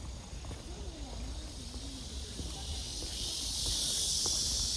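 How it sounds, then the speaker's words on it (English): Cicadas buzz in a forest near a traditional village, a high, sustained drone that swells louder toward the end while a person speaks quietly underneath. "cicadas making that noise"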